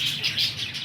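Qasori pigeons of a breeder's stock, a soft continuous cooing and chirping murmur that holds steady at moderate level through the short stretch, with no one talking.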